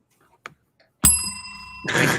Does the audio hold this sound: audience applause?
no